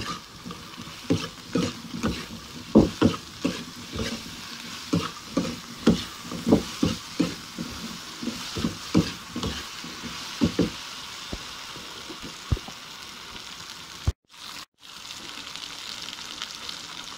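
A vegetarian stir-fry of mushrooms and vegetables, seasoned with shiitake-based stock powder and a pinch of sugar, sizzles in a pan. Frequent scraping strokes of a spatula sound close over the steady frying hiss.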